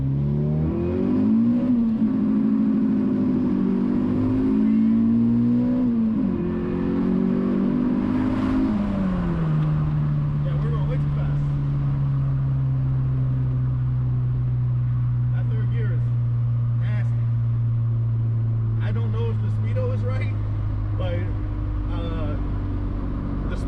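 A Honda EK Civic with a swapped H22A engine accelerates hard through the gears from inside the car, revving up and dropping on each shift, then holding a steady high drone, with people talking over it.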